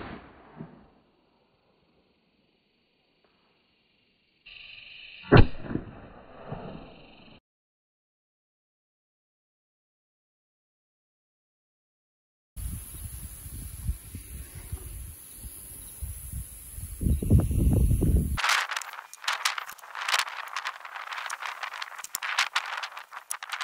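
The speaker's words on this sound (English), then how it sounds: "let's shoot this into a melon and see what it does." .22 WMR rifle fired into a melon outdoors: one sharp, close shot rings out amid broken stretches of quiet and handling noise, followed later by rustling and wind-like rumble, with no talk.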